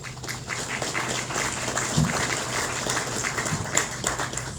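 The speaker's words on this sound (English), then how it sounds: "Give them a round of applause." Applause breaks out at a Killeen city council meeting for visiting officials, a moderate, steady patter of clapping from a roomful of people, fairly even throughout, with a few sharper claps standing out near the listener.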